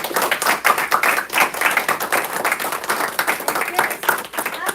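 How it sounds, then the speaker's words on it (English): Parents in an audience applaud middle school students after public speaking speeches, a dense, continuous patter of many hands clapping close by, fairly loud and even throughout. "So how about all please give a big round of applause for your kids."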